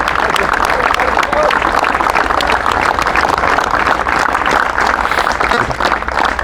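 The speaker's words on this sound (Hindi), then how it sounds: "ताली जोर जोर से" An audience claps hard and steadily at a Gurukripa Defence Academy celebration for navy selections, a dense, continuous wash of applause lasting throughout with voices mixed in.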